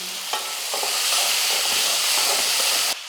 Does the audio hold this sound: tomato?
yes